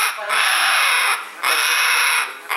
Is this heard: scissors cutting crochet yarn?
no